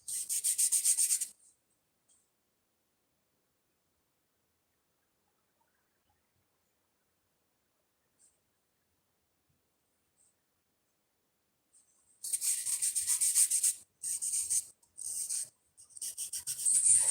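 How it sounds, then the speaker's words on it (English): Close scraping rubs, high and hissy, in a short burst, then long silence, then several repeated scraping strokes separated by brief pauses. "you can hear me clearly scraping for hours"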